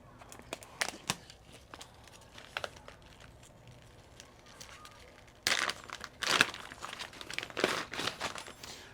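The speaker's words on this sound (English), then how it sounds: "I'm going to open it up. This one has a resealable bag." Crinkling and tearing of a resealable plastic bag holding a spool of green 3D printer filament, starting with scattered small clicks and rustles, then louder close crackling bursts for the last few seconds.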